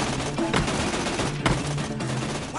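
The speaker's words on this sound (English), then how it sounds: "Please stop shooting me." A robot's giant cannon fires in the Tales from the Borderlands video game, a loud, continuous rattle of gunfire with sharper blasts standing out now and then, and no talk over it.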